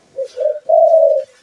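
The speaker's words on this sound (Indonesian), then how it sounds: "bawa dua jenis suara burung tekukur pikat tanah" Spotted dove (tekukur) calling as a bird lure for ground trapping, three clear cooing notes close and loud, the last one drawn out, with nothing else heard.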